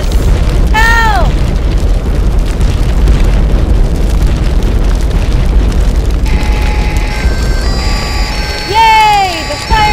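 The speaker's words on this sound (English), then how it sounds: "multiple explosions." Loud, continuous booming rumble of explosions at a burning house in toy firefighter play fills the scene, with voices shouting and crying out over it.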